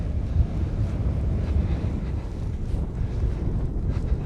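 Strong wind roars steadily against the microphone at Big Dune in Death Valley, a dense low rumble with no voices, rising and falling slightly throughout.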